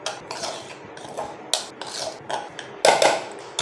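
Onion paratha dough is mixed by hand in a bowl with a little oil, giving irregular scraping and knocking sounds close up. Sharper clinks of the bowl stand out now and then.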